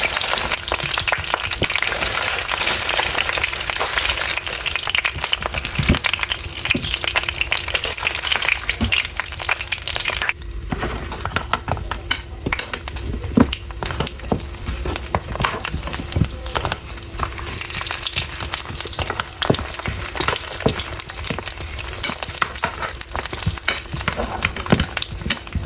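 Turon made with saba banana and jackfruit frying in a little oil, a steady crackling sizzle with scattered taps of a utensil in the pan, close and continuous.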